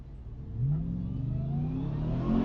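Supercharged Audi RS6 engine revving hard, a rising engine note sweeping upward and holding loud and close over steady road rumble, with no talk.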